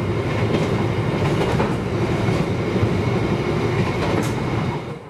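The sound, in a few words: Sembrani 62 passenger train running on rails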